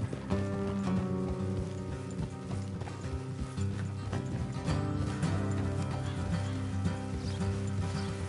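Horse hooves clip-clop steadily in Red Dead Redemption 2, a continuous rhythmic gait under a dense layer of game music and ambience, with no talk.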